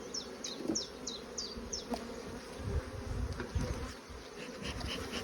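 Honey bees swarm around an opened hive box with honey supers, a steady droning buzz throughout with short chirping sounds early on and occasional handling bumps.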